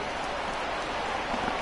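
Rain in an MLB The Show baseball video game pours as a steady, dense hiss of falling drops, even and unbroken across the short stretch, with no voices.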